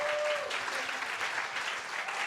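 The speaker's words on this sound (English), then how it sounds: "Let's all give them a round of applause." A congregation at a church retreat applauds mothers who brought their children, a soft, even patter of clapping heard from some distance and sustained throughout.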